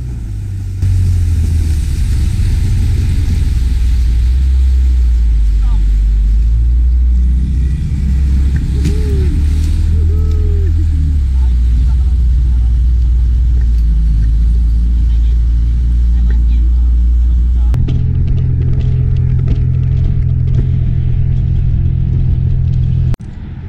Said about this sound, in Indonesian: Menaiki speedboat dengan kecepatan tinggi seperti ini adalah pengalaman pertama bagi kami.